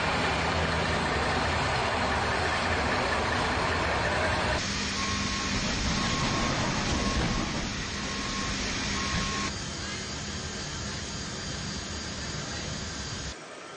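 A C-17 military transport aircraft taxiing to the runway before departure, heard as a loud, constant jet engine roar with a steady whine that shifts slightly in tone, close by and without voices.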